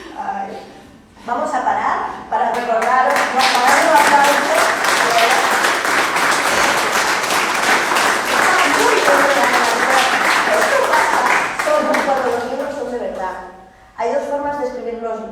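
Sustained audience applause at a Spanish-language book launch in Marín, dense clapping swelling for about ten seconds; a speaker's voice comes in before and after the ovation.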